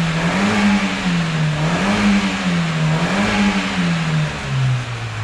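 A car engine revs hard and steadily during an emissions test, its loud drone rising and dipping in repeated surges before easing slightly near the end, with no voices.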